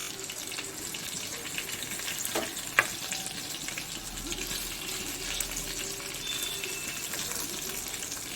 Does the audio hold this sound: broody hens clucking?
no